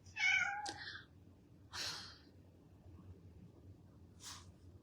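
A cat meows indoors, one clear near call followed by two fainter, shorter meows spaced over a few seconds, against a quiet room background with no talk.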